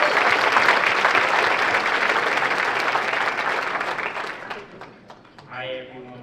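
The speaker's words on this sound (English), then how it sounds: "let's give him a round of applause" Audience applause at a Highfields Strengthening Families breakfast, dense clapping from a room of listeners that tapers off, with a voice starting to speak at the end.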